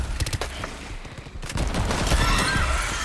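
Rapid bursts of gunfire in the co-op shooter Shatterline, with sidearm shots crackling in quick succession before a denser, continuous barrage of fire takes over in the second half, loud and close.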